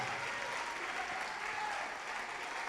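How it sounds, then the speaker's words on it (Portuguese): A church congregation applauds in a steady, continuous wash of clapping that holds at an even level throughout, with no single voice standing out. "Vamos aplaudir mais"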